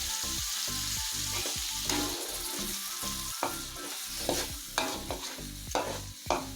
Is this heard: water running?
no